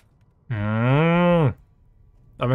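A human voice imitates a cow's moo: one long, loud, steady lowing call held for about a second, followed by the start of a second call, with no other talk.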